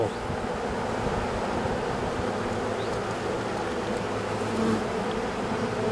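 A dense, continuous drone of honeybees swarming at an open hive fills the air, close and steady with slight swells in loudness and no voices.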